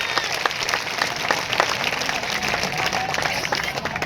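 A crowd applauding at a political speech in Patan, steady sustained clapping from many hands filling the space throughout.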